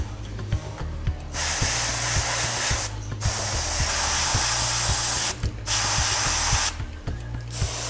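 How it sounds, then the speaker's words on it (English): Bursts of hissing spray from an Iwata airbrush laying down thinned white paint, several long sprays separated by short pauses, close and steady over a low mechanical hum. "I sure like this Iwata airbrush."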